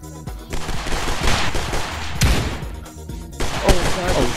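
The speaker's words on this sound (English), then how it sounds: "Oh shoot! The shotgun is loud." Loud shotgun blasts with a rough, explosive spread, fired several times in the Stride VR video game, heard close and punchy under excited talk.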